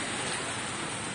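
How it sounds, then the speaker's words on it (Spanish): Hail falling heavily during a storm in Bogotá, a steady dense hiss of pellets striking surfaces that fills the short stretch without pause. "impresionante la cantidad de granizo que está cayendo ahorita"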